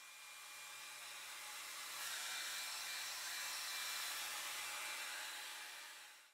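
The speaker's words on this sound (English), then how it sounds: "To speed up the process, I'll be using a hairdryer." A hair dryer on warm setting blows continuously with a steady, breathy whoosh, slightly louder in the middle, then winds down at the very end.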